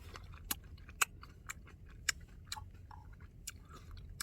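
Seedless grapes are chewed close to the microphone at a misty campsite, a quiet series of wet crunches and clicks spaced irregularly, with no talk.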